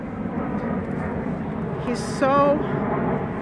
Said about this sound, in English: Oh, there's a plane going overhead.